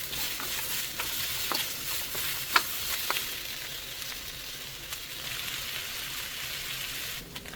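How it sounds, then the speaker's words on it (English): Vegetables sauté in an oiled pan ahead of the liver, a steady, soft sizzle broken by a few sharp clicks and scrapes of stirring, with no voices. "My aim is to saute these before we get to the liver"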